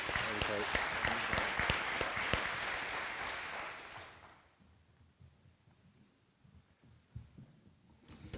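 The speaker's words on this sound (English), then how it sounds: "One more round of applause" An audience at a school football awards banquet claps loudly for about four seconds before the applause fades into quiet room noise with a few scattered sounds.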